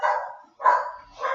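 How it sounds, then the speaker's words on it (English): A dog barks three times in quick succession, loud and fairly close, each bark held and slightly drawn out, with brief pauses between them and no talking over it. "I'm sorry about my dog in the background."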